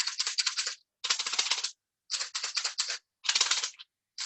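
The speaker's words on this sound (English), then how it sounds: "I'm going to fill my egg with some loose pasta noodles, not a lot because I need air or space for it to move around." A plastic egg filled with a small amount of loose dry pasta is shaken as a homemade maraca, giving four close, bright bursts of rapid rattling separated by short pauses, with no talking.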